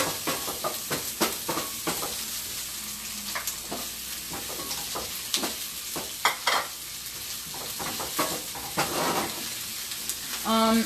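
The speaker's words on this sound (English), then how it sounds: "So this is the oil I use, guys. Avocado oil. I'm going to put my onion on there." Onion frying in avocado oil in a pan, a steady sizzle with scattered crackles and stirring clatters, fairly close and continuous, with no talk over it.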